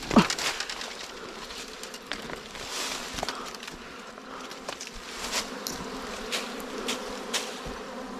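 A swarm of dwarf honey bees at their nest gives off a continuous dense buzz with scattered clicks and flutters, steady and close throughout.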